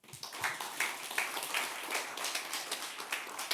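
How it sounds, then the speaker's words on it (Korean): A church congregation at a Korean church officers' retreat claps together, a dense, moderately distant patter of many hands with a loose recurring pulse that continues steadily for several seconds without speech. "우리 박수 한번 칠까요?"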